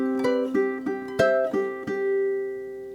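Ukulele strumming the opening bar of a song in short staccato chords, five or six crisp plucked hits with ringing tones, close and clear with no voice.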